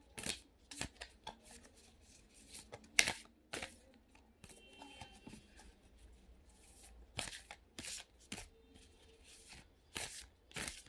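Tarot cards being shuffled and laid down during a reading, a series of quick papery flicks and slaps close by, quiet and intermittent.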